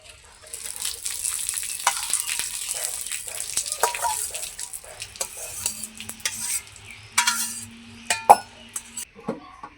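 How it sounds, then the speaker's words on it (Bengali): Boiled raw papaya and water pour into a basket strainer in a home kitchen, giving a steady wet gush with clinks and knocks of the pieces and vessel, close and fairly loud. "এই ঝুড়িতে এখন জলটাকে আমি ঢেলে দেব পেঁপেগুলোকে"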